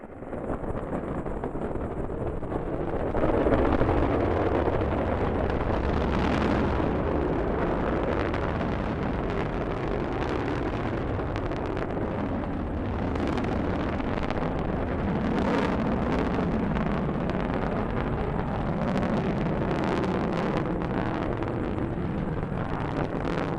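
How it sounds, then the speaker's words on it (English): A Delta rocket lifts off carrying the GLAST gamma ray telescope: a loud, sustained roaring rumble builds within seconds and stays heavy and continuous, with crackling bursts and wind buffeting, and no voices. "liftoff of the Delta rocket carrying GLAST, a gamma ray telescope"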